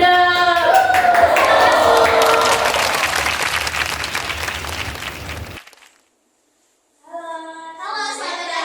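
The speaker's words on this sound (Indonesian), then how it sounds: "Tepuk tangan dulu dong." Audience applause at a school group podcast event, a burst of clapping lasting about five and a half seconds that fades out, followed by a brief silence and then a voice speaking.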